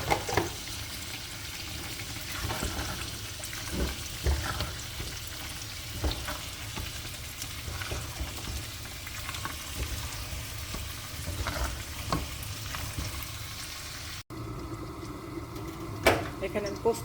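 Beef sizzles and fries steadily in a pan of cooked-down spices, with occasional stirring scrapes and clinks throughout and a short break near the end.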